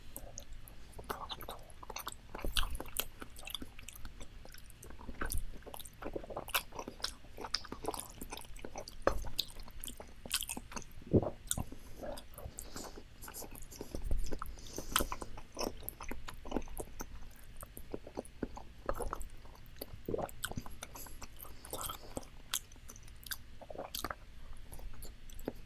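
Close, steady chewing of rigatoni pasta with sausage and crunchy peppers in red sauce, wet squishy bites and soft crunches repeating for the whole stretch with no talking.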